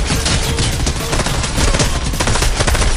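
Dense, loud gunfire in the video game Fortnite, a continuous crackling barrage of rapid shots filling the whole moment without pause, no voices on top.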